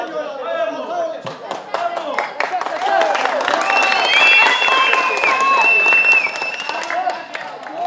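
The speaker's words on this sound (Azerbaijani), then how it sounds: "bu alqışlar məhz meydanı tərk edən oyuncular üçündür" Crowd applause at a regional league football match between Ağcabədi FK and İstiqlal FK as players leave the pitch, steady clapping swelling in the middle and continuing throughout, with a commentator's voice talking over it.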